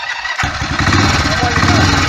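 A BSA B50 single-cylinder motorcycle fires up on its electric starter and drops straight into a loud, close, lumpy thumping idle with a rapid pulsing beat.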